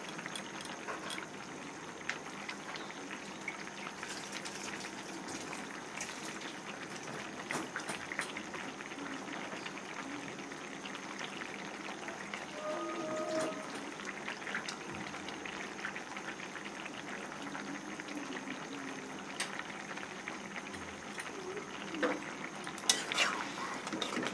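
A paste of ground onion and black cumin sizzles and bubbles in a pan for a shrimp dish, a soft continuous frying hiss with occasional stirring and utensil clinks.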